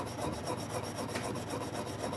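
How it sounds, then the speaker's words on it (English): A chainsaw gets cleaned by hand outside a tribal forestry office, a faint, rhythmic scrubbing and rubbing of repeated strokes, close and quiet, with no talk. "is cleaning his chainsaw, first by hand, next with an air compressor"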